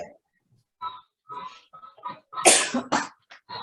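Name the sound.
cough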